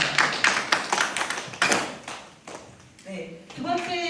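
An indoor audience at a public transport and climate crisis forum claps in a burst of scattered hand claps that fades out, followed by a voice speaking.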